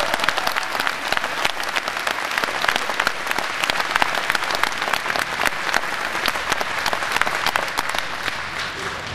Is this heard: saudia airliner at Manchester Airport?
no